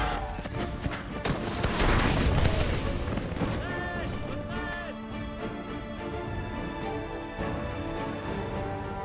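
Massed musket volleys and cannon-like booms from soldiers firing in a Total War battle set in the late 18th century, dense crackling fire peaking early then thinning, with a voice talking over it.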